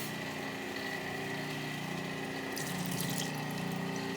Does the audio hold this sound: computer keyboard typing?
no